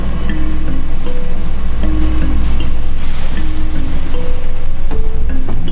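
Ocean waves crash and surge in a loud, continuous roar, with wind noise rushing over the water and no voices present.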